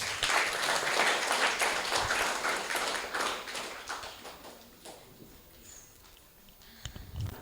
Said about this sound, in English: can we please bring them on stage and give them a round of applause?